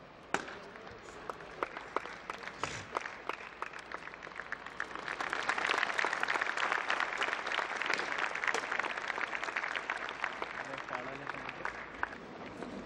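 Applause from an audience at a Suryadutta Group of Institutes inauguration as a guest is welcomed, starting with scattered claps that swell into fuller clapping midway and continue steadily to the end.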